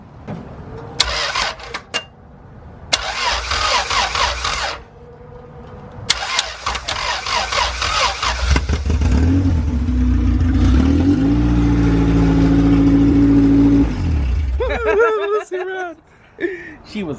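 A Honda B20 engine swapped into an EJ2 Civic with an open header cranks in short bursts, then catches and roars into a loud, rough, steady idle that holds for several seconds before cutting off, with voices and laughter around it.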